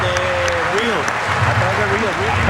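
A stadium crowd at the 2007 Home Run Derby applauds and cheers in a steady, loud wash of noise, with an announcer's voice talking over it throughout.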